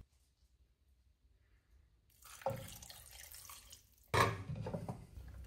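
Saffron is being mixed into water for a tangia, opening in near silence before soft splashing and liquid stirring begin, followed by a sharper burst of sloshing and clinking toward the end.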